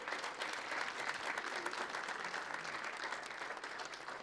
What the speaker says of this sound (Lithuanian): Plojimai Alfredui Pledžiui